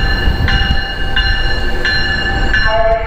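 An Amtrak Coast Starlight train runs along the street at a street-level station, giving a loud, continuous rumble with steady tonal whines and a shift in pitch near the end.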